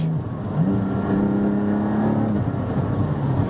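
A Porsche GT4 with a Milltek exhaust burbles and crackles through a gear change, the engine note dipping as revs drop and then climbing again, heard close and steady with no voices.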